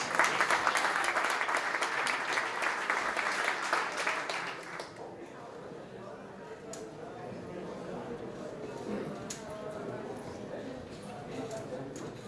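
Conference audience at a healthcare and biotech startup competition claps to welcome a speaker to the stage, a full burst of applause lasting about five seconds before fading, followed by a voice speaking.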